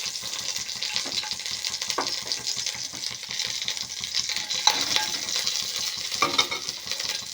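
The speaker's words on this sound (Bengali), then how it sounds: "এবার আমি তেলে কালো জিরে ও চেরা কাঁচা লঙ্কা ফোড়ন দেব।" Black cumin seeds and slit green chillies temper in hot oil, producing a steady crackling sizzle punctuated by sharp pops and stirring clinks, close and fairly loud.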